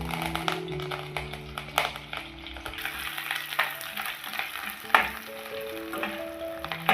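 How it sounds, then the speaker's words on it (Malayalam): Mustard seeds, shallots and curry leaves sizzling in hot oil for Kerala beef curry, a steady close frying hiss with sharp pops and crackles, plus a few taps and clinks of a utensil, no talk. "ഇതിലേക്ക് കടുക് ഇട്ട് കൊടുക്കാം. ഇനി ഇതിലേക്ക് ചെറിയ ഉള്ളി ചേർത്ത് കൊടുക്കാം. അതോടൊപ്പം തന്നെ കറിവേപ്പിലയും ചേർക്കാം."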